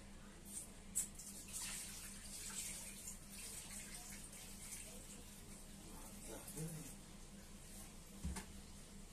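Water running from a household tap during daily chores, a faint, steady flow with a few soft knocks, while voices talk quietly in the background.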